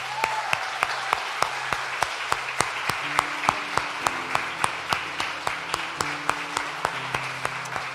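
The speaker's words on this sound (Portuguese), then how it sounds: "Tem que aplaudir mesmo." A church congregation claps in a steady, evenly spaced rhythm, sharp hand claps repeating about twice a second, while a low sustained organ or keyboard tone plays underneath throughout.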